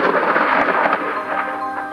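Thunder rumbling from lightning strikes in the planet-destruction game Solar Smash, a loud dense roar with a couple of sharp cracks, no talk over it.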